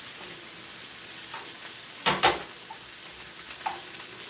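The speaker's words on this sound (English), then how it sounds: "I let these onions soak into here as well. Get them nice and brown." Onions browning in a pan on a powerful stove top give a steady, close sizzle and hiss, with a brief louder burst of spitting or stirring partway through.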